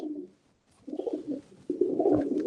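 Racing pigeons coo in low, soft, rolling bursts, a short call followed by a pause and then longer throaty cooing close by.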